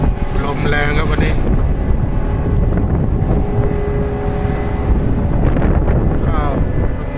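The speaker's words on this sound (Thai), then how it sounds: "ลมแรงครับวันนี้" Strong wind roars steadily across a cargo ship docked at the port of Umm Qasr, a loud continuous rush with engine-like hum beneath and someone speaking over it.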